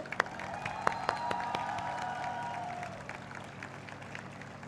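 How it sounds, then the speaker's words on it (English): Audience applause at a university graduation convocation, scattered claps swelling into a moderate crowd ovation that fades near the end, with a faint tonal hum underneath. "Let's have a big round of applause for all of you."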